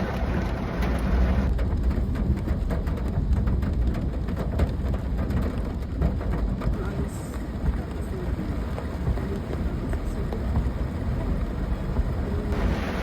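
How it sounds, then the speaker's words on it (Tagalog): Heavy rain hammers on a car during an evening ride, a loud continuous drumming heard from inside with low thunder-like rumble beneath, lasting throughout with a faint voice at times. "grabe sobrang lakas ng ulan."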